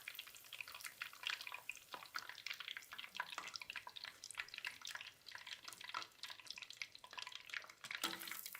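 Fish goujons fry in hot oil and are lifted out carefully. A steady, crackling sizzle with bubbling runs throughout, with a few clinks toward the end.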